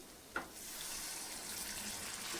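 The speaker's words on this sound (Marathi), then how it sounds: "याच्यामध्ये गरम पाणी टाकायचं आहे" Hot water pours steadily into a pot of moth bean curry after a brief clink, a soft continuous hiss of liquid running for a couple of seconds.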